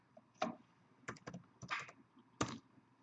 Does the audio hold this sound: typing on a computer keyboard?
yes